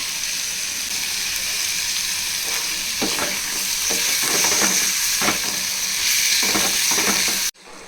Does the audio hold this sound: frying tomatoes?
yes